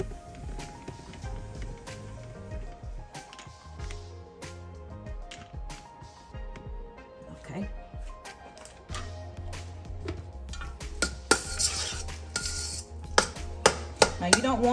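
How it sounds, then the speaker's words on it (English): Metal spoon working through a bowl of twice-baked potato filling, with repeated scraping taps and soft mushy squelches that grow busier and louder toward the end, close-up with no talk. "now we're gonna take this spoon. I'm gonna mix everything up together"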